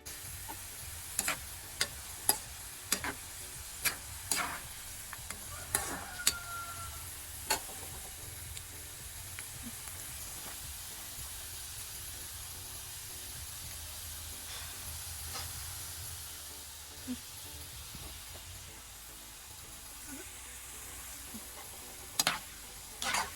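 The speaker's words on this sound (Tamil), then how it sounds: "இப்போ சேர்த்து நாங்கள் இது கோல்டன் கலராக அளவுக்கு ஃப்ரை பண்ணி எடுத்துக்கொள்ள வேணும்." Dried onions, a handful, frying in hot oil until golden give a steady low sizzle with a few sharp stir clicks and scrapes scattered through, close and moderately quiet, with no talking.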